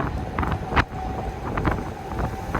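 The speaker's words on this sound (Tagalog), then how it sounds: "Ang lakas ng hangin." Strong wind buffets the microphone in steady gusty rumbles, with a brief louder gust burst partway through.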